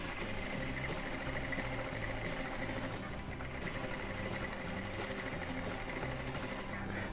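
A sewing machine runs steadily, stitching the hem along the very edge of a cotton dish towel, a continuous close rapid whirr with only a brief dip midway and no talking.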